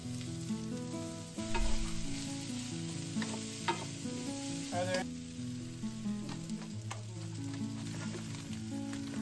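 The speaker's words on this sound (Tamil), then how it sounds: "அப்புறம் பொட்டேட்டோஸ் எல்லாம் போட்டு கொஞ்சம் சால்ட் போட்டு நல்லா ஃப்ரை பண்ணிடுங்க" Onions, sweet potatoes and potatoes fry with salt in a pan, a close, steady sizzle overlaid by repeated stirring scrapes, with a low tonal hum running underneath throughout.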